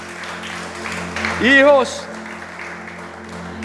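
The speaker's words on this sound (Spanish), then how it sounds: "Vamos a darle otro aplauso al Rey." A church congregation claps during a sermon, a moderate patter of hands running beneath a preacher's raised voice, which briefly swells over it.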